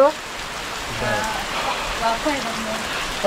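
Steady rain hisses and patters all around, with a person talking quietly over it.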